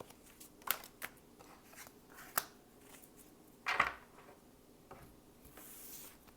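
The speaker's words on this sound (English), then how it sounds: "I'm just shuffling your cards" Tarot cards are shuffled and riffled in soft, scattered bursts, with quiet papery snaps and a louder flutter midway, close by and otherwise quiet.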